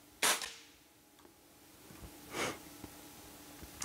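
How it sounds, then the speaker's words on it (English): A rifle fitted with a DNT TNC225R thermal scope fires a single sharp shot near the start, followed by a second loud burst a couple of seconds later and faint handling noises, with no talking. "And pull the trigger."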